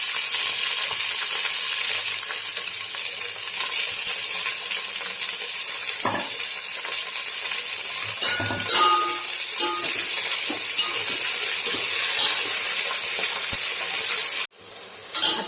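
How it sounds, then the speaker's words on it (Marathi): Chopped tomatoes sizzle steadily in a hot frying pan while the masala for mutton biryani is prepared, a loud continuous close-up fry with occasional spoon clinks and stirring scrapes. "त्यानंतर याच्यामध्ये घालत आहे टोमॅटो."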